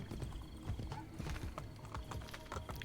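A horse in Assassin's Creed Brotherhood clops along with steady, rapid hoofbeats, a whinny mixed in, under game ambience at moderate loudness.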